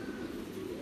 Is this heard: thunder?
no